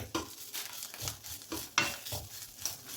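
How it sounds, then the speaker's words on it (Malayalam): A spoon scrapes and stirs dried shrimp in a hot pan over medium heat in steady, repeated strokes over a soft continuous sizzle, close and fairly quiet. "എല്ലാം കൂടി ഒന്ന് നല്ലതുപോലെ ഒന്ന് വഴറ്റി കൊടുക്കാം."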